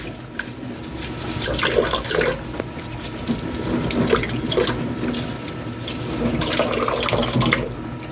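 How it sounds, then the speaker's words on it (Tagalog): Vegetables are rinsed under a running kitchen tap, a steady close splash of water into a sink with shifting gurgles as the produce is handled, and no talk. "Hugasan muna natin yung mga gulay."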